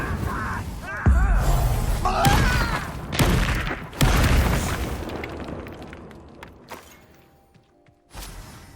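Confringo fire spells exploding in the video game Hogwarts Legacy: a series of loud booming blasts and crackling bursts during combat, each fading out, with a last blast after a short lull.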